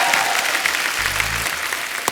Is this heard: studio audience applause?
yes